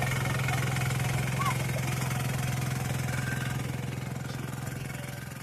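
A farm vehicle engine chugs steadily while ploughing a village field, a continuous close, loud low rumble that holds constant and tapers slightly toward the end.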